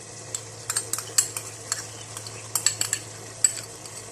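Macaroni being stirred with vinegar and ketchup in a pan, with a quick series of close spoon clinks and scrapes against the metal over a faint sizzle.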